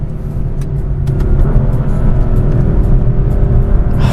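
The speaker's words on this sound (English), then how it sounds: "just hooning the car around, just having fun and taking it easy, nothing crazy out here in these back roads, but definitely pushing the car a little bit" A BMW M4 driven hard along rural back roads, its engine a steady loud rumble with road roar building slightly through the stretch, no talk over it.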